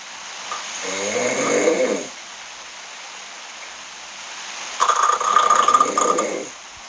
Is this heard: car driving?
no